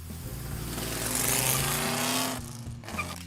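A 1970 Mercury Cyclone Spoiler engine revs up loudly, its pitch rising steadily before cutting off, then a brief second burst of engine sound, close and alone.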